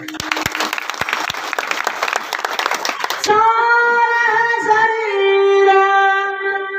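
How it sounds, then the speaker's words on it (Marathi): Audience at a kirtan claps together in a loud, dense burst for about three seconds, then the clapping stops and sustained melodic instrumental tones take over. "टाळी वाजवायला."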